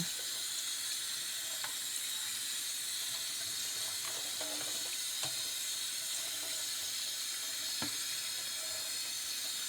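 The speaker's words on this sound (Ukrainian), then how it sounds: "Гарненько промиваємо строчки під проточною водою." Steady broadband rush of running tap water with occasional faint clicks and splashes as false morel mushrooms are rinsed; no voices.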